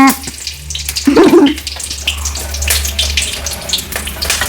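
Green chillies spatter in hot oil while cooking rava semiya kichadi, a loud, broad, crackling sizzle that flares and keeps hissing, close by, with a brief voice near the start.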